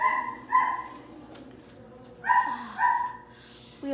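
A pet dog barks indoors at home, loud and close. Several distinct barks come in an uneven rhythm, a pair early on and a pair later, with no talking.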